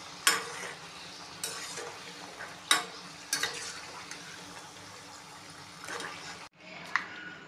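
Sweet Maharashtrian modaks frying in hot oil with a steady soft sizzle, broken by several sharp scraping clinks of a slotted spoon against the pan as the pieces are stirred and lifted out.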